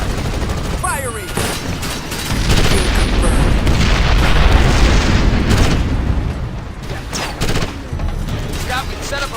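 Heavy gunfire and booming explosions from the Ghost Recon Advanced Warfighter video game roar continuously and loudly, with sustained bursts of shots and blasts throughout, and radio-style voices speak briefly in the mix.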